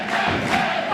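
A live wrestling event crowd cheers and roars in a continuous loud wash of voices for a second, with no distinct speech.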